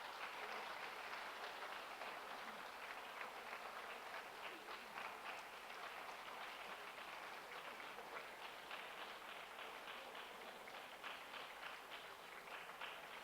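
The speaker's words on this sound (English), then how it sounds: "give them a round of applause and show them your appreciation" Graduates at a 2017 university graduation ceremony at Wrexham Glyndwr University give their families a sustained round of applause, a steady, fairly quiet wash of many hands clapping that fills the hall without pause.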